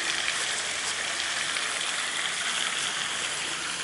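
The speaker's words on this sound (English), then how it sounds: "Here we got a kid's little water feature area." Water splashes steadily in a children's water play feature at the San Salito community in St Augustine. The hiss and spatter is continuous and bright, sounds close, and stays even throughout without pauses.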